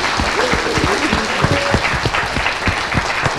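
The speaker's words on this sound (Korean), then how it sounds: "박수." Applause from a small studio group on a political talk show, steady dense clapping held at an even level, with a voice speaking faintly underneath.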